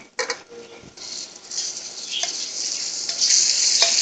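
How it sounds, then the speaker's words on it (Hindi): Moong dal is stirred and fried in oil in a pan, giving a steady sizzle that builds louder over a few seconds, with spoon clinks and scrapes against the pan near the start. "भूनेंगे इसको दाल को हम तेल में"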